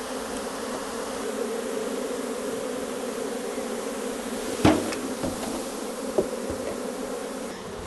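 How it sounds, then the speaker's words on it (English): Steady droning buzz of many bees swarming close by, constant and dense, with a few brief knocks partway through. "there's a bunch of bees flying around"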